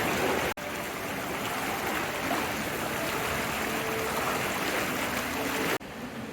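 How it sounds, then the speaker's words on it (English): Water flowing steadily along a babbling stream at Disney's Wilderness Lodge, a continuous broadband rush and trickle, fairly close and even throughout, broken only by two brief dropouts. "like a babbling spring heading out, which the water actually goes all the way to the pool"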